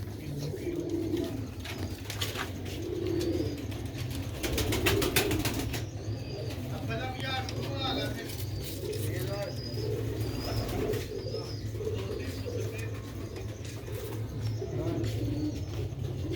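Pigeons coo in soft, repeated throaty calls close by, alongside chirps and a brief flutter of wings, while people talk over them.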